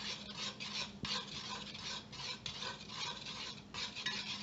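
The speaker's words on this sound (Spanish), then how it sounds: "Vamos a revolver" Cornstarch, vinegar and other ingredients for a homemade bioplastic are stirred in a container, making soft, rhythmic scraping and swishing strokes that stay quiet and close.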